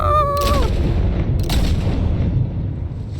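A loud gunshot in Batman: The Telltale Series cracks out right after a brief tone, followed by a booming, rolling echo and a second fainter crack, then a long decaying rumble.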